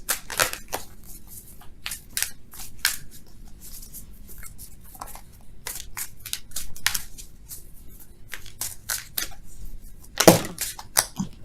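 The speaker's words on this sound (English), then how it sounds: "Let's shuffle for real, though." Tarot cards being shuffled in quick, papery bursts and riffles, close and fairly quiet, with a louder flurry near the end and no talking.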